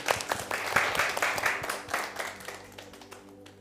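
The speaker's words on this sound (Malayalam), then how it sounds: "ശക്തിയോടെ കൈയടിക്ക്" A group claps together in quick, uneven bursts, loud and close at first, then thinning out toward the end.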